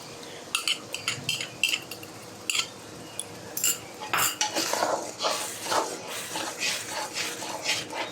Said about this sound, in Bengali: টক দই দেওয়ার সঙ্গে সঙ্গে খুব ভালো করে নাড়তে হবে, নইলে টক দইটা ফাটা ফাটা হয়ে যাবে।